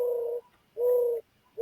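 Bird calling outdoors with three long, steady cooing notes at an even pace, each about half a second and separated by short pauses, clear and fairly close with no talk.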